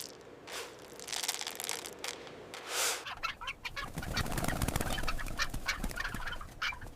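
Guinea fowl on a farm pecking at a feed block, with sharp, irregular pecking taps and scratchy knocks and faint bird calls over steady barn noise, growing busier and louder in the second half.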